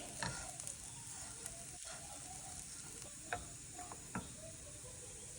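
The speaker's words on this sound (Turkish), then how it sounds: "Şu kadayıfımı bir kavurayım." Shredded kadayif pastry toasting in a pan for a Dubai chocolate filling, giving a steady close sizzle with soft stirring scrapes and a few sharp ticks.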